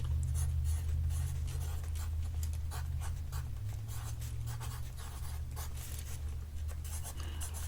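Pen strokes scratch steadily across paper while notes are written in an ASMR medical exam role-play, a soft, close, continuous scribbling over a low steady hum.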